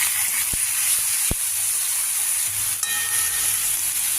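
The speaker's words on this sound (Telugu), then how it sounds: "పప్పులు కూడా కొద్దిగా లైట్గా వేయిస్తున్నాను" Steady, soft sizzle of soaked moong dal frying lightly in a pan, a continuous hiss with a couple of sharp clicks and a brief scrape partway through.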